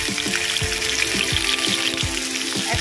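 Crab frying in hot oil in a wok makes a dense, steady hiss up close, with a series of dull low knocks every half second or so under the sizzle and no speech.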